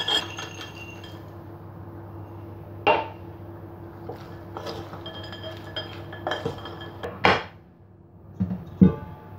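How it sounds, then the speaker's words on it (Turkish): A spoon stirs carrot cake batter with walnuts in a bowl, giving scattered clinks and scrapes against the bowl over a low background hum, close and fairly quiet, with no talking. "Cevizimi de ekliyorum. Tekrar karıştırıyorum."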